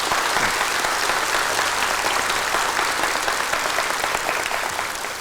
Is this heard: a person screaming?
no